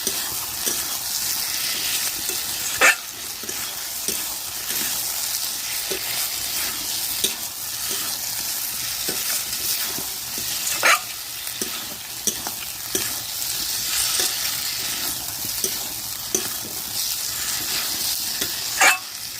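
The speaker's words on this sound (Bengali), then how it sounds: "এভাবে করে ভালোভাবে কষিয়ে নিতে হবে।" Young jackfruit and potato curry being sautéed in oil, a dense continuous sizzle with regular spatula scrapes and a few louder clanks against the pan, close and sustained, with no one speaking.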